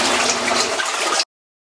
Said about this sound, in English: we go to the drain and we're draining the rinse water out